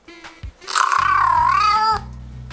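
A loud, drawn-out cat meow rises and falls for about a second, likely played from a phone cat translator app to a house cat, preceded by a few short soft sounds and followed by a low hum.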